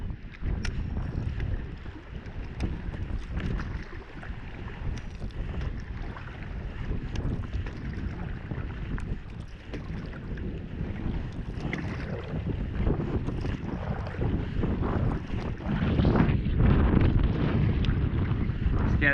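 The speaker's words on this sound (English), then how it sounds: "It's really windy and it's kicking up everything." Strong wind on a lake buffets the microphone in a constant roar, with water splashing and lapping underneath, growing louder toward the end.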